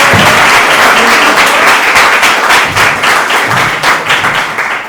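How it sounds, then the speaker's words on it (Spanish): Sustained audience applause greets a storyteller at a live storytelling event, dense clapping filling the room steadily for several seconds with no voices over it. "Reciban por favor con un aplauso a John Freddy Peña, nuestro primer narrador."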